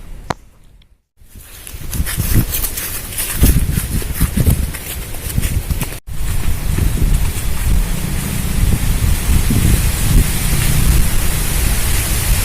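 Steady rain, a dense hiss of broad noise that drops out briefly near the start and again for an instant midway, then continues loud and constant.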